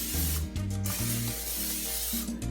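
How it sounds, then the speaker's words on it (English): Olive oil cooking spray hisses onto a hot pan on a stovetop in short bursts, with several separate sprays and pauses between them. "I got this olive oil cooking spray that I'm gonna spray the pan with"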